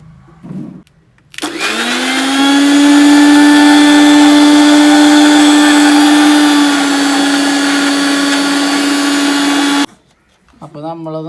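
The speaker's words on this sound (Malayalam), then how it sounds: "ഇതെടുത്തിട്ട് മിക്സിയിലിട്ടിട്ട് ബ്ലെൻഡ് ചെയ്യാനാണ് പോകുന്നത്" A kitchen mixer grinder blends a ginger drink in one loud, steady whirring run of about eight seconds, starting and stopping abruptly with brief quiet before and after.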